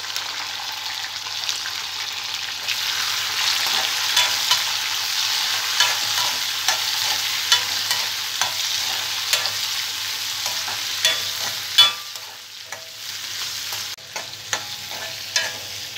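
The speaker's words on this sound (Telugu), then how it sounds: "ఎండుమిర్చి కూడా ఫ్రై అయిన తర్వాత ఇందులో టమాటో ముక్కలు," Tomato pieces, garlic and dried red chillies sizzle steadily in a pan for hotel-style gongura pachadi, with a constant frying hiss and frequent clinks and scrapes of a spoon stirring.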